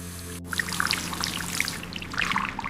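Tap water running while hands are washed, a steady close splashing pour with small bright droplet spatters throughout.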